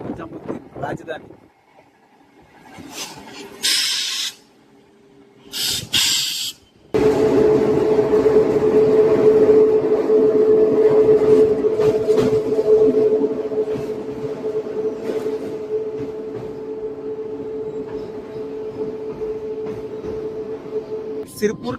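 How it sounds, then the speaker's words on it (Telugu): A MEMU train rolls into Sirpur Kagaznagar railway station with a steady droning hum and low rumble, preceded by short bursts of noise and voices; the drone eases off gradually toward the end. "జస్ట్ స్టేషన్ లోకి ఎంటర్ అవుతుంది మన ట్రైన్ బాగా లాగ్ అయిపోయింది అలా"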